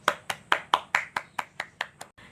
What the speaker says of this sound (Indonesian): Ayo kita beri tepuk tangan untuk kalian semua.